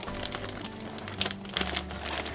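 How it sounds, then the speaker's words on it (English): Soft crinkling and rustling as a paper towel is put into a plastic bag close up, steady and quiet throughout with a few sharper crackles. "I take my paper towel, put it in the plastic bag"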